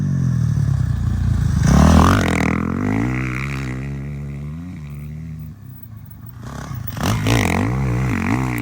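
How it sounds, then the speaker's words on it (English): Motocross bikes ride through a dirt-track corner, engines falling away under braking, then rising and revving hard as they power out, loud and close with no speech. "let's watch this next one and let's just listen to the bikes"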